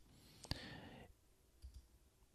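A computer mouse clicking during work in Xcode, a couple of single, crisp, quiet clicks spaced apart against a low room hum.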